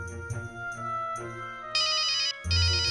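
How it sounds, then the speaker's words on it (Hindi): A telephone rings with a loud, repeating electronic ringtone, its bursts stacked in bright bands and cycling steadily over a low musical bed, the ring growing more insistent toward the end with no talk over it. "अस्पताल से फोन, अस्पताल से"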